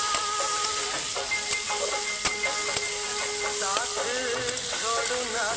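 Chopped onions sizzle and fry in a pan at the start of a mild chicken leg curry, a steady close hiss with occasional stirring clinks and scrapes, no talking.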